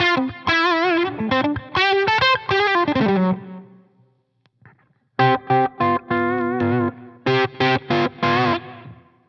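A fuzz-drenched electric guitar plays a string of distorted notes and chords, pauses briefly, then resumes with choppy, stabbing fuzzy chords.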